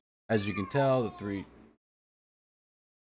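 A pet cat gives a couple of loud, close, drawn-out meows in quick succession, then silence; someone speaks briefly over the end.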